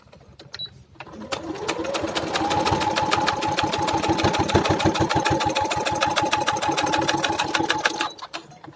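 Electric sewing machine stitching the corners of a high-neck collar, running in a steady fast rhythmic chatter for about seven seconds after a brief start, close and loud, stopping abruptly at the end.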